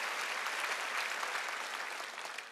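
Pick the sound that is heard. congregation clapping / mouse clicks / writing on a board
congregation clapping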